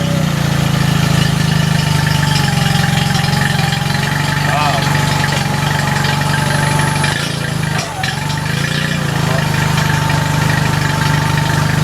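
An outboard boat engine, a repaired unit with fresh oil and fuel hooked up, runs at a steady loud idle with a low droning hum and slight knocking vibration throughout, with a brief dip near the end.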